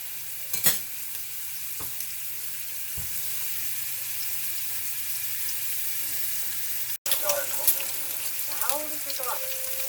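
Chicken pieces sizzle steadily in a pan over medium-high heat, a constant frying hiss through most of the clip with a few brief clinks and stirring noises, and a louder burst of crackle near the end.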